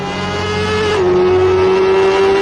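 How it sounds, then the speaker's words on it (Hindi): A motorbike approaches along a road, producing a loud, steady engine drone with a sustained hum that holds through the whole moment, with no talking. "वो देखिए एक बाइक वाला आ रहा है"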